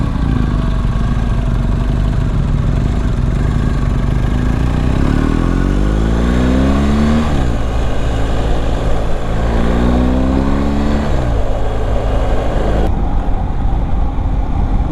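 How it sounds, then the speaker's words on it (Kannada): A boxer-engine motorcycle drones steadily at speed in sixth gear, its pitch rising and falling as it pulls smoothly, loud and close throughout. "ನೋಡಿ ಬಾಕ್ಸರ್ ಇಂಜಿನ್ ಟಾರ್ಕು ಸಿಕ್ಸ್ತ್ ಗೇರಲ್ಲಿದ್ದೀನಿ"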